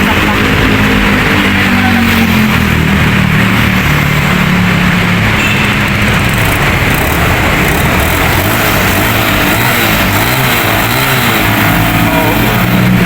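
A motorcycle engine runs continuously after a new cylinder block has been fitted, a loud, close, rough drone with fluctuating revs and no pauses, with voices heard under the noise.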